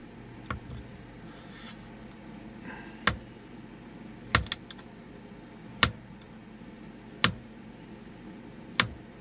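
A knife slicing through a hard-boiled egg, with six distinct, evenly spaced sharp taps against a cutting board over a quiet room background, each one clear and close.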